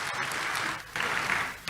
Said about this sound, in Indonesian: Tepuk tangan yang bangga buat Tuhan kita Yesus.